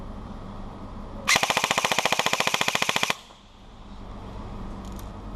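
A G&G ARP9 airsoft submachine gun fires a rapid full-auto burst of about two seconds at roughly 14 rounds per second, a loud, evenly spaced mechanical rattle that stops abruptly into quiet background.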